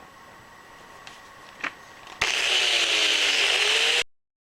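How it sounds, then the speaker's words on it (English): Harbor Freight grinder spinning up abruptly after a few faint taps, then a steady loud high whine running for about two seconds before cutting off sharply into silence. "I think we got a grinder that functions."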